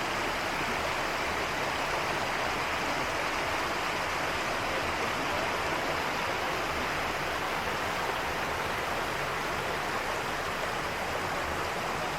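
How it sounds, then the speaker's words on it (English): A glacier-fed waterfall in a steep forested recreational area roars as a dense, constant rush of falling water, loud and unbroken with no voices. "The water from the waterfall comes from a glacier."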